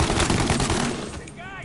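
Gunfire in the video game Mafia Definitive Edition: a loud, close burst of rapid shots that fades out within about a second, followed by a faint tonal chirp.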